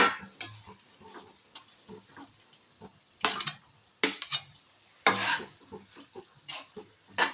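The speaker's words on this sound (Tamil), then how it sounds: "இப்போ இதில் சாதத்தை போட்டு அப்படியே மெதுவாக கிண்டி விடலாம்" Cooked rice is stirred into eggplant vangi bath in a pan, with soft scraping and periodic louder clatters of a spoon against the pan over a faint background hiss.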